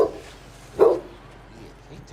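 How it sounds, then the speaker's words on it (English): A pet dog gives a single short bark partway through, fairly close, with a faint yip near the end, set against quiet indoor room sound and occasional soft voice activity. "Should rename that dog Nutsack."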